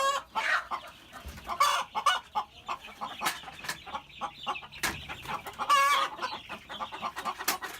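Young chicks on a farm peep and cluck in quick, busy bursts, several birds close by chirping over one another continuously with brief louder squawks.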